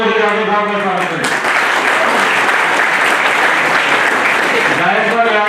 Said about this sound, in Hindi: जोरदार तालियों से यादव साहब का स्वागत करें